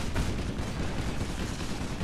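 Gunfire in Earth Defense Force: Insect Armageddon, a dense unbroken roar of rapid shots over about two seconds at steady loudness.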